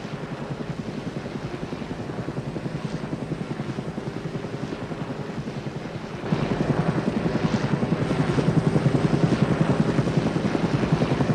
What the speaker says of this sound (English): The chopper will hit its landing lights.